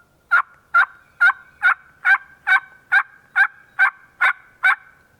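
A diaphragm turkey call produces a clean yelp: eleven evenly spaced, sharp, clear notes with little rasp, close and alone against silence. It is a human-made imitation of a wild turkey.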